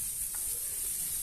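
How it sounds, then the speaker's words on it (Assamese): Chopped onions frying in mustard oil with whole cumin in a kadai, a soft continuous sizzle with faint crackles, close and alone. "পিয়াজখিনি অলপ ভাজি লৈছো"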